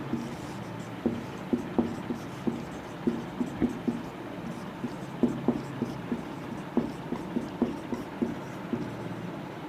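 Someone writes notes for a Class 10 trigonometry lesson, the pen or chalk tapping and scratching in short, regular strokes close by, repeated in quick bursts throughout.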